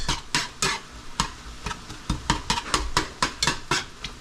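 Ground meat seasoned with Kinder's blend is stirred with vegetables in a pan, a rapid series of close, loud scraping and clanking utensil strokes against the metal over a light sizzle.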